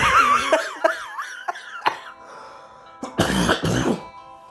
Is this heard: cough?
yes